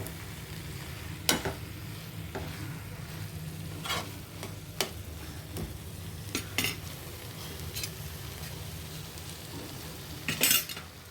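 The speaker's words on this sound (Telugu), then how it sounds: "ఇదిగోండి పోపు వేయించాము ముక్కలు వేసేసుకున్నాం" Brinjal pieces and tempering frying in a pan give a soft steady sizzle, broken by sharp clinks and scrapes of a spoon stirring against the metal pan at irregular intervals, close and fairly quiet.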